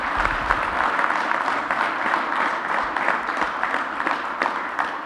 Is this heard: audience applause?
yes